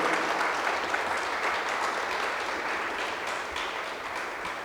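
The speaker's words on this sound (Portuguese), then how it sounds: "peço uma salva de palmas de vocês" A crowd at a talk on Adinkra symbols and African ancestral wisdom applauds with dense, even clapping. It holds steady and fairly loud for several seconds and fades slightly toward the end, with no voices.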